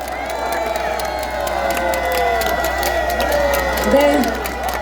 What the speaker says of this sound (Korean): 여러분 다시 한번 큰 박수를 부탁드립니다